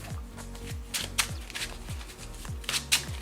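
A deck of Yu-Gi-Oh trading cards is shuffled up close, giving several quick riffling bursts with soft card slaps in between, heard alone without talk.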